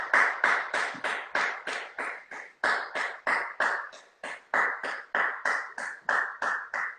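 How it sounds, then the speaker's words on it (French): Many people clapping together outdoors at 8 pm, a steady stream of crisp hand claps with a regular rhythm, heard from a moderate distance with no voices. "C'est 20h, faut que j'aille applaudir."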